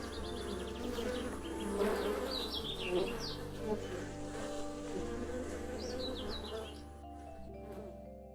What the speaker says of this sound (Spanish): Las abejas ya están volando, ya saborean la primavera.